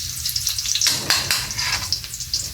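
Garlic frying in a home pan for a simple Filipino dish, a steady bright sizzle and crackle with a few louder pops and stirring scrapes, close and continuous with no talk.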